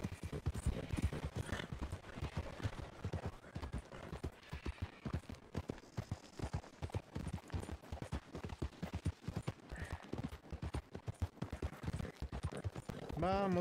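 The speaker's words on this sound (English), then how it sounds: "Galopar hace que la resistencia del caballo se agote" Hooves of a galloping horse in Red Dead Redemption 2 clop in a fast, steady rhythm throughout, with talk over them.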